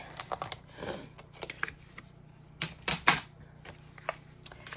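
Scissors trim paper for a side-fold pop-up card in quick, close, crisp snips and rustles, a flurry of short cuts with brief pauses between them.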